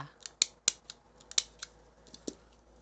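A stapler pressing through folded paper while making a flower offering, a series of sharp metallic clicks and snaps at irregular intervals, close and crisp, alone without speech.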